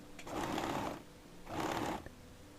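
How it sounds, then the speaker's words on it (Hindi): A sewing machine stitches down a folded fabric strip on a front-open kurti, two close bursts of quick rhythmic whirring about a second each with a brief pause between, fairly quiet and with no talking. "फोल्ड करके मैं सिलाई लगा लूँगी और इसके नीचे इस तरह से अटैच करूँगी।"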